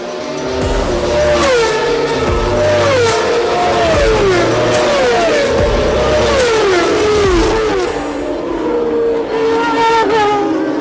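Screaming Formula One cars, led by two McLarens, roar past one after another at the French Grand Prix, their high engine notes rising and falling sharply, loud and close, with a crowd-like wash underneath.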